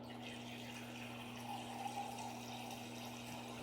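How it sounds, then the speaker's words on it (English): Water running steadily from a kitchen tap while measuring water for sourdough bread, a continuous, fairly quiet hiss and splash over a low mechanical hum, with no talking. "I'm gonna get some water here."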